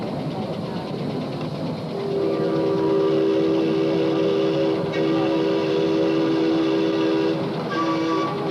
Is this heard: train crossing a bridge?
yes